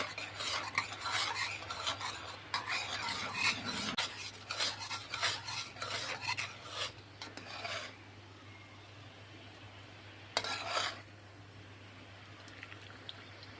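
A spoon scrapes and stirs Chinese cabbage with oyster and seasoning sauce in a pan, in irregular rubbing strokes that come in bursts and then thin out to quieter gaps over a low steady hum.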